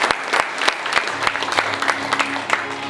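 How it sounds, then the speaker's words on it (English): An audience at a charity running event gives a round of applause for fundraisers, producing dense, close clapping with distinct sharp claps throughout. "a round of applause to everybody who raised so much money"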